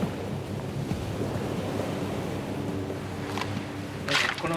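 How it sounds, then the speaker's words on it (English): Heavy ocean surf and strong wind during a typhoon, a continuous roaring wash with gusty rumble and a brief louder surge near the end, with no speech. "huge ocean waves smash directly into buildings"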